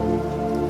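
Rain falls steadily for a moment, with an even, close patter on a surface and no voices.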